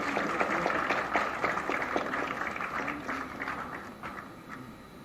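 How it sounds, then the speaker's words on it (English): Applause from a conference audience at a valedictory ceremony in a large Bengaluru exhibition hall rolls on steadily. Individual claps are audible within the wash, and it gradually thins toward the end. "Please welcome him with a big round of applause, ladies and gentlemen."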